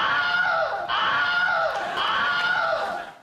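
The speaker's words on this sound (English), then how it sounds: "a scream sound effect that has appeared in over 150 films to date" The Wilhelm scream, the stock film sound effect, rings out as a loud, shrill, wavering yell in a few drawn-out bursts that fade at the end, played during a comedy quiz show.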